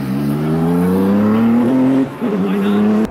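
A race car driven by Mario Andretti accelerating, a loud steady engine drone climbing slowly in pitch, close up from inside the car, with a short dip and then the roar resuming.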